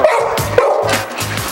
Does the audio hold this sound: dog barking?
yes